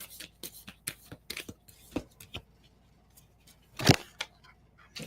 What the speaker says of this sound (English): And I just shuffle those cards so much.